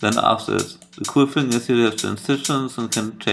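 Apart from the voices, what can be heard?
No everyday noises stand out.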